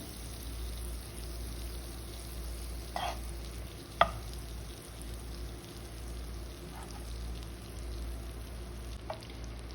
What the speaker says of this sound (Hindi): बटर जो है वो मेल्ट हो रहा है।